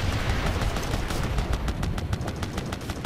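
Rapid automatic gunfire from the video game Operation Flashpoint: Red River, a dense stream of close, sharp shots with overlapping bursts and a rumbling low background.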